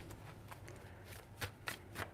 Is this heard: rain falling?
no